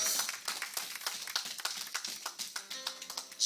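A church congregation applauding during a thanksgiving service, quick irregular hand claps of moderate loudness spread through the room, with no talking.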